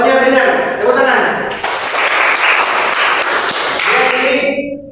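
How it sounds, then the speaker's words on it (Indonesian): Classroom of students applauding for a correct answer during an Arabic lesson, a burst of clapping lasting a few seconds that rises over a speaking voice and then fades as talk resumes. "Tepuk tangan."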